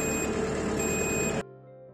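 Warning buzzer of a load control system on a tipping-protection machine, a steady electronic tone mixed with engine noise that cuts off abruptly after about a second and a half, leaving a faint hum.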